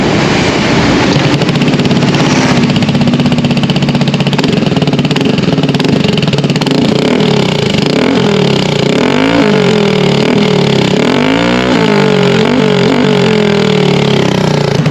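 A Villain Carbon 370 motorcycle exhaust with a silencer idles and revs repeatedly, rising and falling in pitch, muffled, loud and close throughout with no voices.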